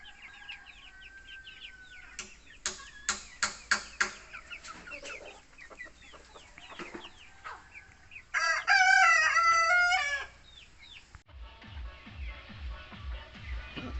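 Chickens cluck in a sharp run of close calls, then a rooster, a Hubbard breed, crows loudly in a long wavering burst before softer clucking and scratching resume.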